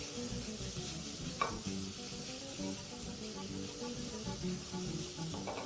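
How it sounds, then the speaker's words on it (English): Spiced shrimp are tossed in a pan over high heat, giving a continuous, even sizzle with soft scraping and the occasional faint knock. "proceed to toss your pan, mixing everything together"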